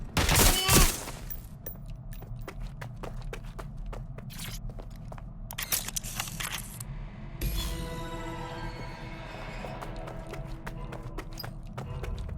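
Rapid bursts of gunfire ring out in the video game Watch Dogs: Legion, with loud crackling shots in close clusters, footsteps and scattered impacts, then a rougher stretch of continuous noise.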